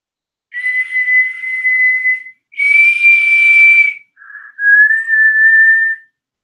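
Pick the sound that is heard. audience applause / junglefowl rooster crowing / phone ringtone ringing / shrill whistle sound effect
shrill whistle sound effect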